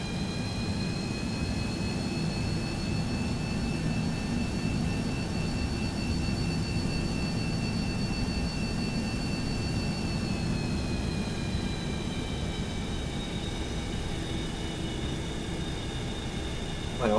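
Boeing 737-200 of Aerolíneas Argentinas, heard from inside the cabin while taxiing in fog: a steady, loud jet engine roar with a high whine over it that drifts slightly lower partway through, continuous and without talk.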